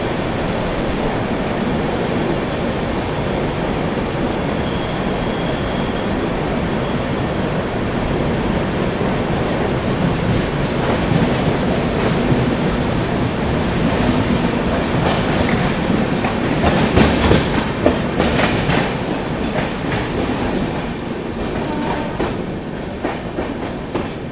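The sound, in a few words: train running through tunnel and another train crossing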